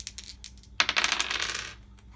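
A handful of metal Machi Koro coins spills onto a table in a board game at home, a loud clinking cascade of overlapping jingles and taps that rings briefly and settles, with faint lighter clinks before it.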